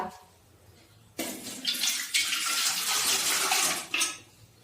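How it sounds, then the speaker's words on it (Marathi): A glass of water is poured into a large pot for steaming sago, making a splashing gush that starts abruptly after a quiet moment, holds for a few seconds, briefly swells and then stops, with no voices. "आता आपण त्यामध्ये 1 ग्लास पाणी टाकूया।"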